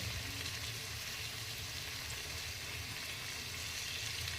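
Masala bhaat ingredients sautéing in a pan on medium flame give a steady, close sizzling and frying hiss with faint stirring, unbroken throughout and with no talk.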